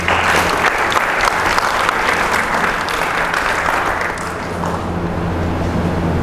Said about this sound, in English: So let's give a resounding round of applause to our educators.